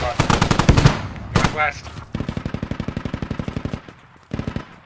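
Loud automatic gunfire in a Squad multiplayer match, with rapid rhythmic bursts of close shots, a long sustained stream of rounds, then a final short burst; brief voices speak between shots.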